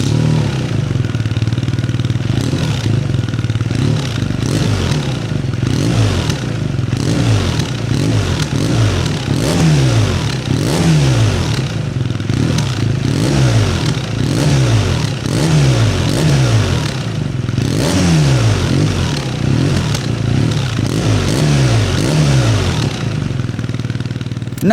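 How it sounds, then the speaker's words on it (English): A boxer-engine motorcycle revs over and over, each rise swelling and falling in a dull, droning exhaust note, loud and steady throughout with no talk. "intervals in this particular engine do give it a bit of a dull, droning note"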